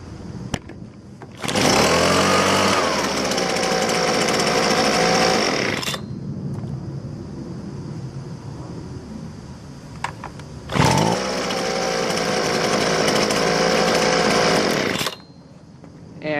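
A Husqvarna 125B leaf blower warm-starts and runs at full throttle for about four seconds, drops to a quieter idle, then is revved hard again for another four seconds, loud and close with no talk.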